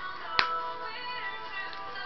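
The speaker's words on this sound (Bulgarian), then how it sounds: "Поставяме и капака." One crisp plastic snap of a phone's back cover being fitted lands near the start, then only soft background music continues.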